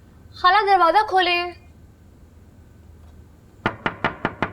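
A quick series of five firm knocks on a door, close and distinct, comes after a short spoken call.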